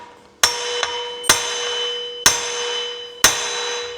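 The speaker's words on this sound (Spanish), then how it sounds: "Apuntamos muy bien con el martillo, esto es un arte." A hammer strikes stainless steel brake disc screws seized in aluminium on a Yamaha NMAX 125 scooter, four loud, close metallic clangs at a steady spaced pace, each ringing out briefly, with one lighter tap after the first.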